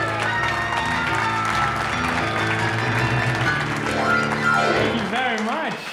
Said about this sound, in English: that's an applause